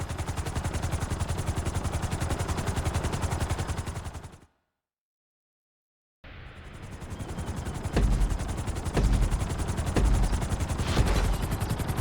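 A helicopter in GTA 5 produces a loud, steady rotor chop with a thick engine roar, stopping for a short silence and then returning with heavier thumping bursts.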